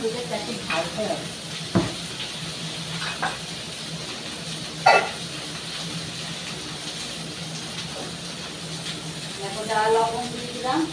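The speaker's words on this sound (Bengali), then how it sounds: "এবার সবজিগুলোকে দেখে একটু লাল লাল করে ভেজে দিলাম।" Vegetables fry in a pan with salt and turmeric, a steady sizzle and hiss broken by a few scrapes and knocks of stirring.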